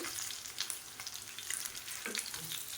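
Fish frying in hot oil, a steady bright sizzle and crackle close by with no voices.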